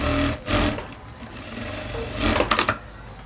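A sewing machine stitches a Rajput kanchali blouse in short loud runs, a rapid mechanical whir with a rattling burst near the end, close up and without speech.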